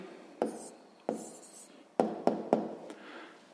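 Pen strokes writing down the answer to a sixth-grade percentage maths problem, a handful of short scratchy taps and strokes spaced out over a few seconds, close and fairly quiet.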